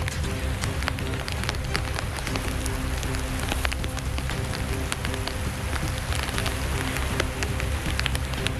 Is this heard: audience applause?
no